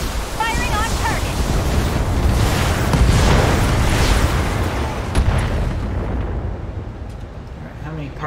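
Heavy weapon fire and explosions in the mech video game Battletech, a loud, dense roar of blasts and booming impacts that fades toward the end, with talk over it.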